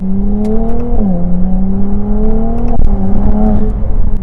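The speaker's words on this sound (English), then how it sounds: "I love the turbo noises that this car makes" A Ferrari 296 GTB's turbocharged engine hums loud and close with a steady droning tone that dips and rises as the revs shift, while faint turbo whooshes and whistles sit over the top.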